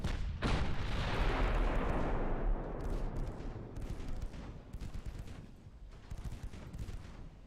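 Warship guns firing in the naval video game Ultimate Admiral Dreadnoughts: a big opening blast with a long rumbling decay, followed by a string of smaller, irregular cracks and thuds fading into the battle noise.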